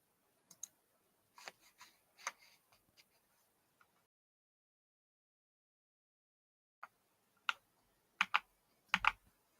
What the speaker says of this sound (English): I like keyboards that make sound.